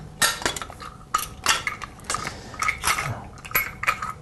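Stainless steel folded gauge guard being fed into a mounting hole, giving a run of close, crisp metallic clinks and scrapes in irregular bursts with no talking.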